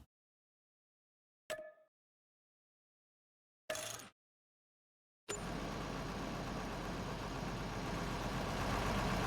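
A farm tractor engine idling steadily and close after a few brief clicks, a continuous low rumble holding for several seconds.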